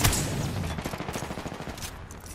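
Rapid automatic gunfire in the shooter game Apex Legends, bursts of close shots rattling steadily for a couple of seconds.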